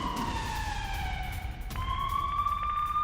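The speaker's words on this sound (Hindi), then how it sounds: "अमृतसर में लगातार सायरन बज रहे हैं।" An air alert siren wails across Amritsar in steady rising and falling tones, heard at a distance over a constant background hum.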